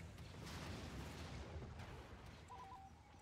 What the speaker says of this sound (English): there's just literally, like, constant explosions going off, and, like, turrets, like, firing rockets, and projectiles just flying everywhere